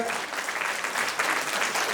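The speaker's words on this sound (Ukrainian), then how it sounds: "Тому давайте ще оплесків, будь ласка." Audience applause for a children's domra ensemble at a music school concert in Poltava, a thick, continuous wash of many hands clapping with no pause.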